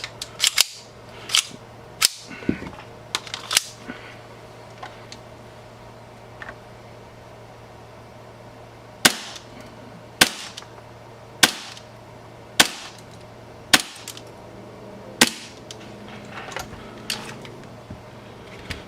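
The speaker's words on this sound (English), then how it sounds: "let's just shoot the last couple of these" A gas-powered airsoft gun fires shots from a gas magazine: sharp, loud single cracks in irregular bursts, a few quick ones early, then a spaced string of about eight reports over a quiet background.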